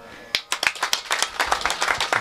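Audience clapping at a devotional kirtan in honour of Santosh Khade, with a burst of sharp, uneven handclaps that builds into steady applause from a nearby crowd.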